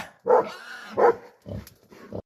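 A shepherd's dogs bark at a wild boar that is threatening a herd of goats, giving several loud, close barks in an uneven rhythm with short gaps between them.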